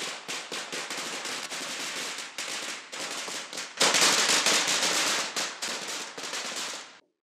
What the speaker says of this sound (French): Il fut ébloui par les bruits,